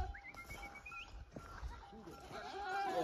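Goats and sheep at a livestock market in Mutoko town centre, a few bleats rising over a busy crowd with people talking nearby.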